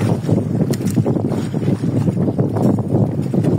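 Strong wind at sea buffets the microphone in a constant roar, with water and boat noise mixed underneath.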